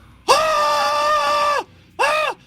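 A person screams loudly in two bursts, a long sustained cry followed by a shorter one after a brief pause, close and alone.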